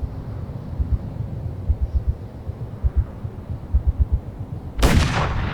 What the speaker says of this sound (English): The last scene, we heard a gunshot.